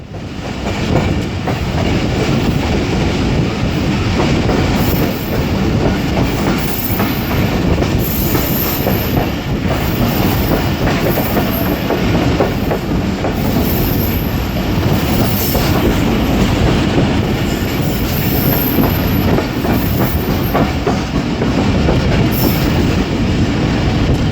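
A passenger train running from Karachi toward Rohri Junction, heard from on board as a loud, continuous roar of wheels on rails with rhythmic clatter and occasional high squeals, steady throughout with no talking.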